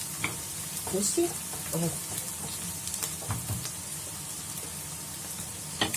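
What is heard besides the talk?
onions frying and being stirred in a pan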